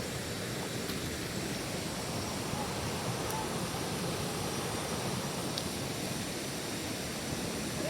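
Rushing water at Maredumilli waterfall in the hills pours as a steady, dense roar that holds unbroken and loud throughout, with no voices.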